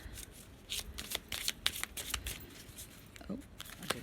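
Tarot cards being shuffled in a series of crisp riffling bursts, close and moderately loud, with brief pauses between.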